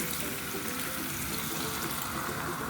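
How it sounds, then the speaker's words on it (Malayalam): A cup of water is poured into Kuttanadan duck curry simmering in a pan, a steady, close splashing gush lasting a few seconds with no talking. "നമ്മൾ 1 കപ്പ് വെള്ളം ഒഴിച്ച്"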